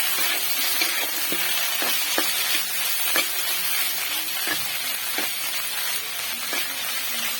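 Snake gourd with coconut frying under a lid in a pan, a steady bright sizzle broken by scattered small pops and crackles, close and continuous with no talking.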